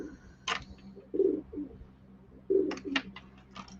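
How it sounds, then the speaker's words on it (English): Pigeons cooing nearby in a few short low throaty bursts, spaced out over several seconds, mixed with brief higher chirps and a faint steady background hum. "you hear the pigeons speaking at everybody"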